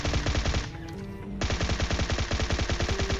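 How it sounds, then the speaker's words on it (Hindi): Rapid automatic gunfire in the battle-royale game PUBG Mobile, a dense steady stream of loud close shots that breaks off briefly near the middle and then resumes just as hard, with no talking. "जैसे यहाँ से निकला ना तो बंदा फायरिंग करता है"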